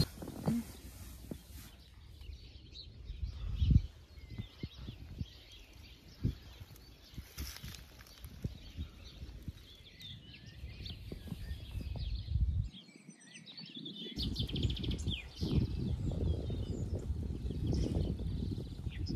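Birds call at dawn around a forest campsite in the Teutoburg Forest, faint and scattered chirps and clucks over a low rustling background that grows louder toward the end.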